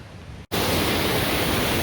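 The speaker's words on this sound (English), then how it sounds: "There's that river before the bridge that wasn't there 2 weeks ago." A river swollen with snowmelt rushes beside a mountain trail in the High Uintas, a dense, loud, steady roar that cuts in abruptly after a brief quieter moment.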